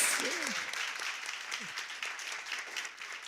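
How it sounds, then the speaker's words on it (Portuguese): A congregation applauds during an evening church service, a steady patter of many hands clapping at moderate distance, with a couple of brief vocal exclamations early on while the clapping continues underneath. "uma salva de palmas para eles"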